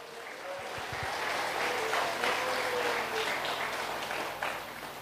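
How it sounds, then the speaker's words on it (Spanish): Church congregation at an evangelical sermon applauding, a sustained wash of many hands clapping at moderate distance, fairly soft overall and steady throughout. "Fuerte aplausos, Iglesia de Cristo."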